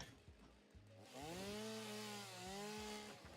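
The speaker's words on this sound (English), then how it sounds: "let's quickly switch out to the chainsaw" A chainsaw starts up and revs loud and close, cutting into a big tree in the video game Satisfactory, its engine droning steadily with pitch rising and dipping.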